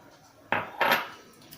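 Flour, semolina and salt stirred together in a metal bowl, two brief scraping clinks of a utensil against the bowl, close and quiet otherwise.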